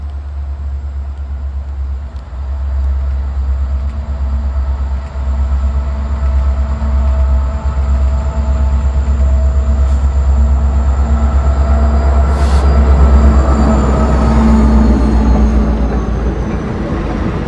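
Amtrak train rolling slowly on rails at about 25 mph, a steady low rumble with wheel and rail noise that builds gradually, a faint high whine running above it throughout.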